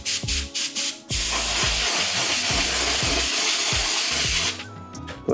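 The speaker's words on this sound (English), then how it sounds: "we have used compressed air, oil-free" Oil-free compressed air blasts in a loud, continuous hiss onto a telescope mirror during cleaning, preceded by a few short sputtering bursts and trailing off near the end.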